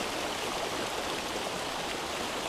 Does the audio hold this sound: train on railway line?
no